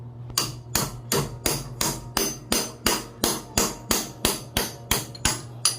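Fourteen sharp hammer strikes on a Yamaha Mio Soul i 125 scooter's fly ball part ring out at a steady, brisk rhythm, each a loud metallic clang with a short ringing decay.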